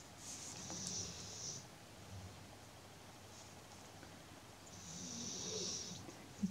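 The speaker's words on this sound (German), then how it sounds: "Kannst du meinem Hund noch ein bisschen beim Schnarchen zuhören?" A dog snores softly indoors in two slow, drawn-out breaths with a quiet pause between them. The sound is faint and close in an otherwise hushed room.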